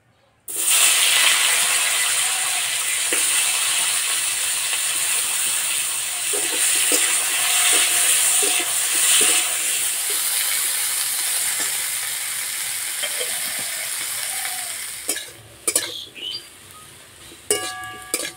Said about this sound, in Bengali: এবার আলু ভেজে নেব।